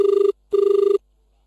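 A telephone rings twice in short, trilling bursts separated by a brief pause, clear and close, with silence after, on an All India Radio Sagar phone-in folk song programme.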